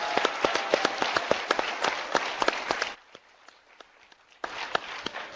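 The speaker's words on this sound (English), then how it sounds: "let's give a round of applause to our friends at the Kennedy Library." An audience at a reading distance-learning program claps in a brisk, steady patter of individual hand claps that drops to a few faint claps midway, then picks back up toward the end.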